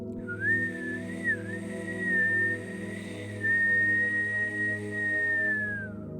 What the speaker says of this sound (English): on the inhale, it'll sound like a high-pitched whistle